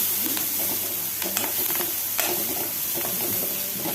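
Turmeric and chili powder being stirred into chapati upma in a pan, with a steady close sizzle and a few soft spoon scrapes against the pan.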